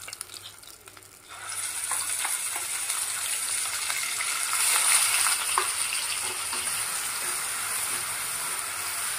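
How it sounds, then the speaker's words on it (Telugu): Onion paste sizzling steadily in a hot pan for a fish curry, a continuous bright frying hiss that swells in after a quiet first second and holds evenly, close and fairly loud, with faint stirring scrapes and no voices. "ఉల్లిపాయ పేస్ట్ లైట్ గోల్డెన్ కలర్ వచ్చే వరకు ఫ్రై చేసుకోవాలి"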